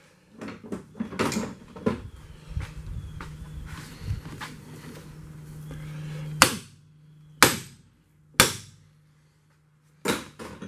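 Several sharp metallic hammer strikes ring out, the last few spaced apart with short decays, after a stretch of clattering and a low steady hum.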